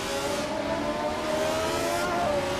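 A pack of race cars led by a classic 1971 McLaren M19A roars off the start at Rouen-les-Arcs in a racing game, engines droning in a steady, dense, close wall of sound.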